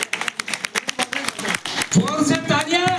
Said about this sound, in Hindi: जोर से तालियां